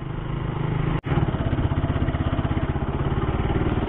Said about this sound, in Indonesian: malah berhenti di situ tuh motor